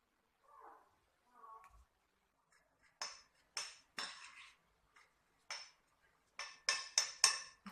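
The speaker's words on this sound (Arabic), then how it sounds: "نخلطوها مليح حتى يدخل كامل هذاك السكر في الزبده" A spoon mixing sugar into butter in a bowl, a series of sharp scraping and clinking strokes that speed up toward the end, with two faint soft sounds at the start.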